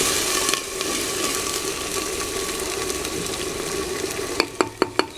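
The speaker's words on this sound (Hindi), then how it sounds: "अब इसमें ज़ीरा डाल दिया, 1 चम्मच ज़ीरा जो रखा हुआ था।" Cumin seeds hitting hot oil in a pot, a steady broadband sizzle throughout with a few sharp spits and pops near the end, fairly close and loud, no talking.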